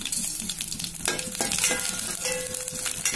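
Ajwain (carom) seeds and tempering spices fry in a pan with a steady close crackle and hiss, broken by a few sharper spatters and stirring scrapes; no one speaks.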